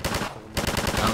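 Automatic gunfire from the video game Half-Life 2: a loud burst of rapid shots, a brief pause, then another sustained volley of fast, close shots. No one speaks.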